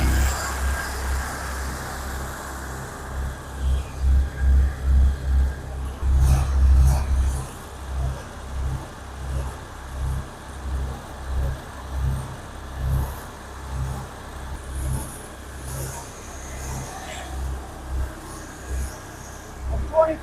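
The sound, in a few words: AJ2340 dual reel jetter trailer engine running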